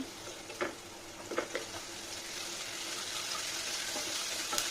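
Tomatoes fry in a pan with ginger, garlic and chilli for chicken kadai, giving a steady close sizzle with a few brief stirring clicks and scrapes throughout.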